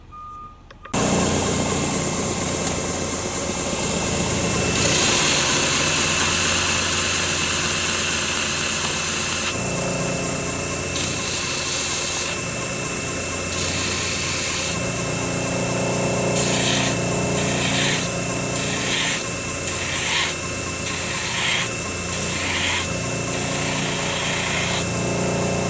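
An edge sander runs continuously as wooden plugs are sanded on top and beveled at the ends, a steady motor whine broken by repeated rasping bursts each time a plug presses against the belt, close and loud without speech.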